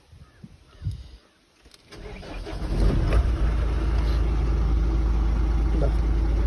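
A diesel car engine is started after a few quiet seconds of faint talk and handling noises. It cranks and catches, then settles into a loud, steady, close idle rumble.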